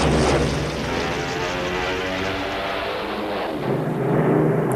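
A Stuka dive bomber drones steadily overhead, a loud, continuous propeller-engine roar with a low rumble that holds throughout and swells slightly near the end, with no voices.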